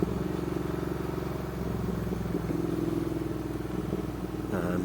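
Triumph motorcycle engine while riding on a chilly day: a steady, rumbling twin-cylinder drone with pulsing low throb and wind noise, continuous and close throughout.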